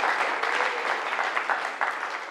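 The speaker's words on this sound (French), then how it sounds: "Applaudissez très très fort." An audience at a comedy show breaks into loud, sustained applause, a dense wash of clapping that keeps an even level throughout.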